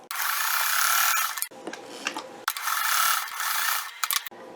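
A sewing machine stitches down a folded fabric hem on a bag made from sleeve scraps, whirring in rapid bursts with brief pauses and clicks between runs, close and clear with no talk.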